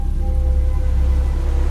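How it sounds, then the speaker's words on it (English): Steady rain falls on dirt as a dense, even hiss with a low rumbling undertone, continuous and fairly loud over the short stretch. "the steady droplets of rain on the dirt"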